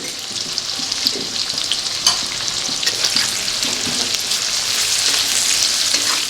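Sliced onion and salt fry in hot oil with whole garam masala and bay leaves for a chicken kofta curry, a dense continuous sizzle close by, with intermittent spatula scrapes and small crackling bursts throughout.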